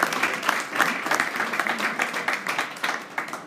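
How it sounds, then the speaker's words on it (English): Warm applause from a live-stream event audience, a steady dense patter of many hands clapping at moderate loudness throughout, with no voices over it. "a warm round of applause for Bronwyn Hesketh"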